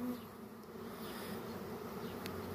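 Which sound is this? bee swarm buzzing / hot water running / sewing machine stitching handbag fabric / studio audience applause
bee swarm buzzing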